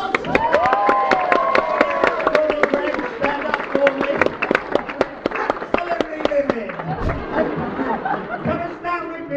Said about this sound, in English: Right, Greg, give him a round of applause